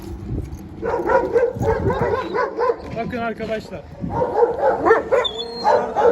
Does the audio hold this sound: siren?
no